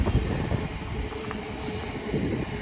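A Class 700 electric multiple unit passes Potters Bar on the East Coast Main Line as a steady, close rumble of wheels and running gear that holds for the whole stretch, with no talk.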